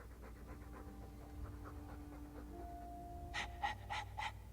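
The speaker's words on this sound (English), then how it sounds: "All that noisy dog breath" Dog panting in Dragon Age II, quick rhythmic breaths repeating steadily at close range, with a sharper burst of panting toward the end over a low game ambience hum.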